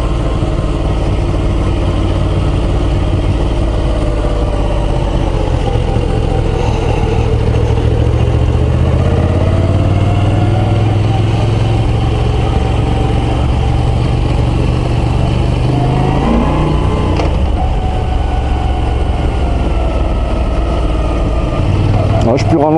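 A Moto Guzzi V9 Roamer motorcycle engine running steadily while riding along a small valley road, a loud continuous drone with rising and falling revs and strong wind noise, the rider talking over it.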